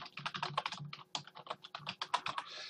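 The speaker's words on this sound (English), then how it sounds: "So I'm going to type in here," Keys on a computer keyboard tapped in a quick, uneven run of close, crisp keystrokes with short pauses between bursts, no voices.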